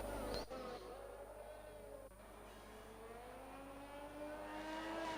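A Ferrari race car in a racing video game drives through the final corner of a Britain circuit, its engine note rising and shifting steadily under a quiet background hum, with a brief tyre squeal near the start.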